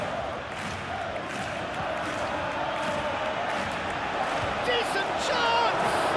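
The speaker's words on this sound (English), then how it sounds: "but it certainly got the crowd going" A stadium crowd roars steadily throughout a simulated PES 2021 La Liga match between Barcelona and Espanyol, a dense, continuous wash of noise that swells slightly toward the end.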